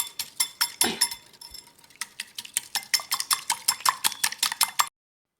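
A spoon mixes a potato filling in a bowl for bread pakora, making a rapid, rhythmic run of bright clinks and scrapes against the bowl that stops abruptly near the end. There is no talking.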